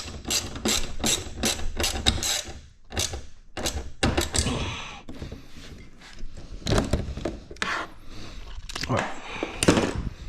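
A fastener on an R35 GTR hood strut is tightened with a ratchet, giving bursts of rapid clicking and clunks, with a voice talking over part of it.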